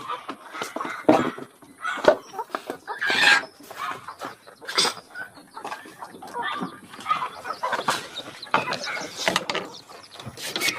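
Young chicks peep and cluck in a dense, continuous chorus of short, bright chirps, close by and lively throughout, with no one talking over them.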